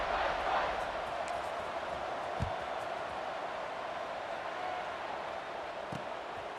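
Steady stadium crowd roar fills a college football game at kickoff in College Football 26, a continuous broad wash of cheering held at even loudness, with a couple of brief thumps.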